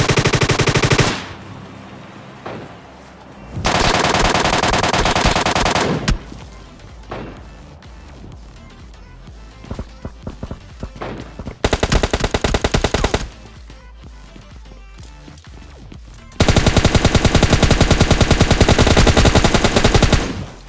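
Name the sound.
gunfire in a shooter video game, MK14 rifle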